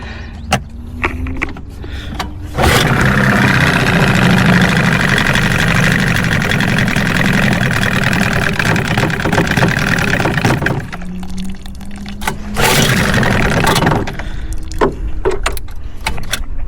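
A 15hp outboard motor on a cheap aluminum jon boat runs loud and steady at close range for several seconds, cuts out, then briefly restarts and sputters before dying again, with quieter stretches at the start and end.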